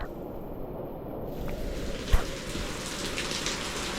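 Heavy rain pours steadily down outside a balcony, making a dense, even patter with one brief louder knock partway through and no voices.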